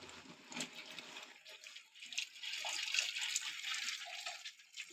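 Hot water running from a geyser tap, a faint steady splashing stream with soft drips, heard alone without talk.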